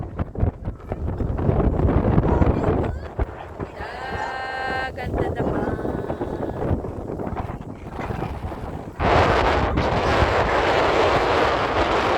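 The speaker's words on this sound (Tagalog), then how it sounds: "Sobrang hangin nga talaga dito." Strong wind roars and buffets the microphone throughout on the coast of Biri, Northern Samar, with a voice talking over it and a louder gust near the end.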